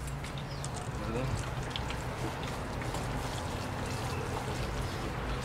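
Water pours steadily while soil is rinsed out of a recycled plastic planter. A continuous close splashing and trickling runs throughout, with faint speech underneath.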